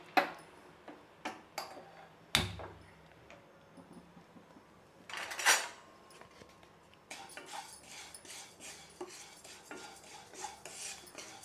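Flattened rice (poha) dry-roasting in a pan, with a spoon scraping and tapping against the metal in irregular clicks and clatters, fairly quiet and close.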